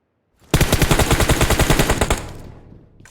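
Automatic gunfire from a PUBG battle royale match, a rapid, loud burst of around twenty closely spaced shots lasting about a second and a half, then a short fading tail, with no voices.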